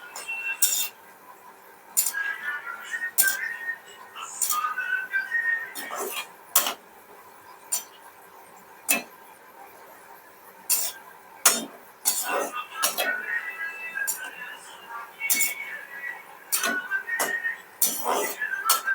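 Shankarpali frying on low heat while being stirred, with scattered sharp metallic clinks and scrapes of a utensil against the pan over a faint, quiet background.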